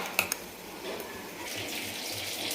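A small pour of water runs steadily into ground masala in a pan for a spicy village chicken curry, starting with two sharp clinks, then a soft continuous trickle.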